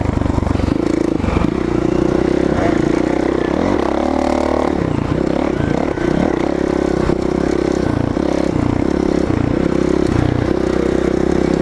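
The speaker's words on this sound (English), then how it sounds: "450 has so much power, it's so easy to bring up on that rear wheel and just wheelie over stuff" A 450 dirt bike on a trail ride near Divide, Colorado, its engine loud and close throughout, droning steadily with repeated throttle surges and dips as it climbs over rough ground, with clatter from the terrain.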